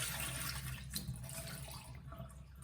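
Tap water running steadily as lentils and beans are rinsed in a kitchen sink, a continuous close splashing rush with a slight gurgle, no voices.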